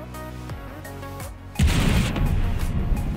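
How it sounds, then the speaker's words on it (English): Four size 4 missiles hit a ship in a space game: a low tonal hum gives way to a sudden loud booming impact, followed by sustained rumbling crackle of explosions. "we are shooting 4 size 4 missiles next"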